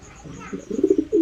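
Domestic racing pigeon cooing close by in a loft, a soft low rolling series of coos that rises into a longer final note over faint background noise.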